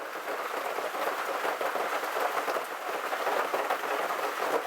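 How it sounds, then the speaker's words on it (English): Steady rain drumming on a tin porch roof, with wind, a dense continuous patter that stays close and fairly loud throughout, no voices. "rain's dying down, as is the wind"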